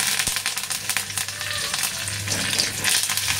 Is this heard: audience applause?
no